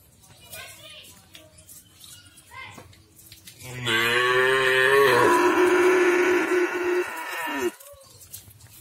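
Cattle kept as karapan sapi racing bulls moo in a barn, a long, loud, close call lasting several seconds, with people talking before it.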